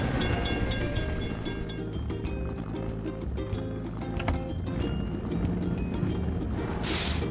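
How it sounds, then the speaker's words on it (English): A train rumbles steadily past a closed crossing gate in a mobile video game, a dense continuous roll with rapid clacking wheel beats and a brief hiss near the end, with no talking. "We have to wait for the train to pass."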